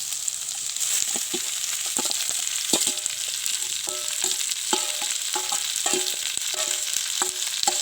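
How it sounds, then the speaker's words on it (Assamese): Chicken meat frying in a pan for a local murgi recipe, a steady hiss of sizzling oil with repeated clinks and scrapes of a utensil stirring, close and continuous, with no voices. "এতিয়া এই মাংস দি দিছে ইয়াত"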